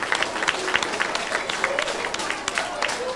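Audience applause at a fourth grade awards ceremony, thanking community sponsors: steady, dense clapping from a crowd that holds at an even level throughout, with a few voices mixed in underneath.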